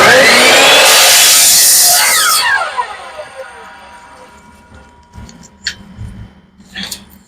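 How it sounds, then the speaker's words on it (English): A miter saw cuts through a piece of wood, giving a loud, close burst of harsh whining blade noise for a couple of seconds that then winds down and fades, with faint handling sounds afterwards. "I'm gonna cut this on my miter saw"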